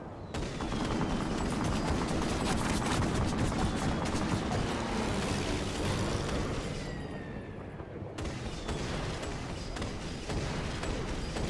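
Sustained heavy gunfire and explosions in the Victorian-era action game Assassin's Creed Syndicate, dense continuous volleys filling the whole stretch with a brief dip near the end before the shooting resumes.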